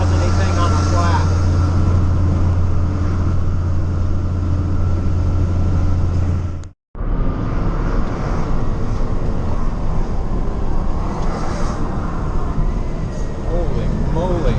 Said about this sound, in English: I'll turn on the pack brake and let off the accelerator and see if it does anything